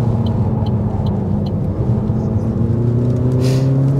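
Engine of a 2023 Opel Grandland with 130 hp, heard from inside as the car brakes and is manually downshifted: a steady, fairly loud low drone with rising whir tones and no talking.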